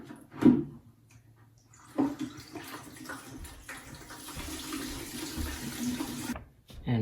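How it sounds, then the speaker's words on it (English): Water drains from the bottom valve of a hot water heater during an anode replacement, running and splashing in uneven bursts with a steady rushing flow through the middle before cutting off. "I'm gonna let a little bit more water out the bottom."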